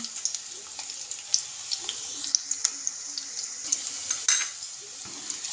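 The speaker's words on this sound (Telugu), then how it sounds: "ఇప్పుడు తాల్పుకి ఉల్లిగడ్డ వేసుకుంటున్నాను" Chopped onions frying in a couple of spoons of hot oil for a tempering, giving a steady close sizzle with small crackling pops and occasional clinks of a stirring utensil, no voices.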